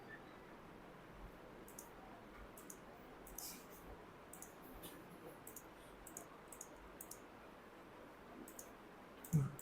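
Computer mouse clicks while working in MS Excel, a series of faint, sharp, irregularly spaced clicks over a quiet room hiss.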